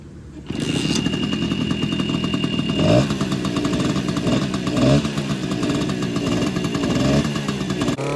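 A Suzuki Trailhopper two-stroke motorcycle engine idles on premixed fuel, a steady buzzing putter starting about half a second in, with brief throttle blips and revs near three and five seconds, loud and close with no talk.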